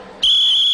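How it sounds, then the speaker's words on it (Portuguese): A referee's whistle blown once to start a timed makeup contest on a Brazilian TV game show, a sudden loud, steady shrill tone that follows a moment of murmur and holds to the end. "Atenção, eu vou apitar."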